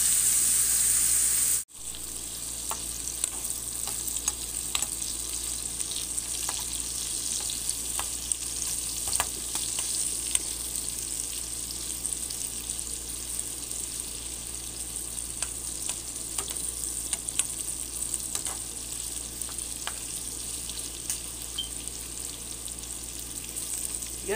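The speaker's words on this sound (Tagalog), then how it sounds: "Prito muna saglit, mamaya na natin siya timplahan" Chicken liver for adobo fries in a pan with a steady, loud sizzle and crackle that runs continuously with scattered pops, close by and alone after an initial brief clatter.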